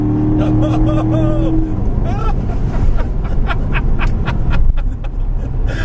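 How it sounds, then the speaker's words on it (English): A 2014 Chevrolet Corvette Stingray engine revs up and down in track exhaust mode with a rasping exhaust note and crackles, heard from inside the car as people talk over it. "you can tell how in track mode it switches the exhaust notes"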